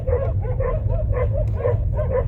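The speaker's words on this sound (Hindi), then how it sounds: "कुत्तों ने हमला कर दिया हम लोगों पर।" Several dogs bark and yelp in quick repeated bursts, close and loud over a steady low rumble, as they attack travellers on the road between Quetta and Karachi at Iqbalabad.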